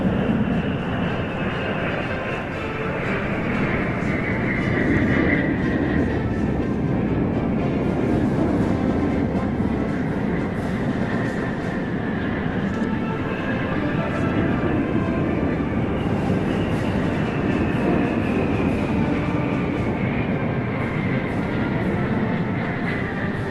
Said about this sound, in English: This is the echelon of the military transport planes.